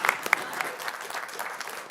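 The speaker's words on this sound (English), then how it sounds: "Give him a big round of applause" At a city council meeting, an audience applauds a teacher with dense, continuous clapping from many hands, a few louder claps standing out near the start and the sound holding steady throughout.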